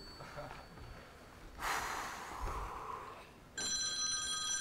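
A telephone in a television studio suddenly rings near the end, with loud, bright, sustained bell tones. Earlier there is quieter rustling, breathing and a brief burst of noise.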